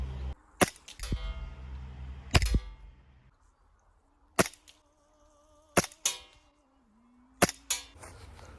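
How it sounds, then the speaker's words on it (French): An airsoft Makarov replica pistol firing during a shooting test at 10 metres, about half a dozen sharp snapping shots spaced a second or more apart, close and loud, with faint mechanical clatter and a low whine between them. "Premier test de tir à 10 mètres."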